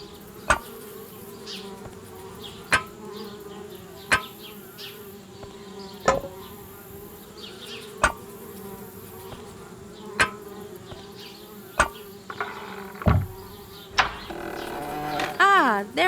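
Bees buzz steadily around a treehouse in the adventure game Anna's Quest, a continuous insect drone punctuated by regular sharp clicks every two seconds, with a brief tonal sound near the end.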